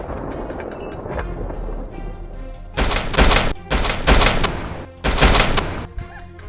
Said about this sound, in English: The gunshots rang out once again.